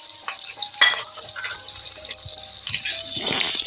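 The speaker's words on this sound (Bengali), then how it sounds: "হালকা করে একটু ভেজে নেব।" Ginger pieces, garlic cloves and cashews sizzle in hot oil in a pan, a steady close crackle with occasional stirring scrapes and no speech.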